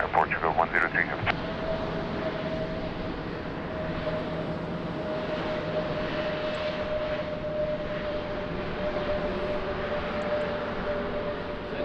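Airplane at Lisbon Airport, a steady distant engine roar with a faint tonal whine holding throughout, after a brief crackle of radio chatter at the start.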